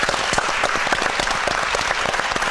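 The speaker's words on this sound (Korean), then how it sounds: "다시 한번 우리 하나님께 감사와 영광의 박수 올려드리겠습니다" Audience applause at a large Korean Christian gathering: dense, even clapping from a big crowd, sustained and loud throughout with no talk over it.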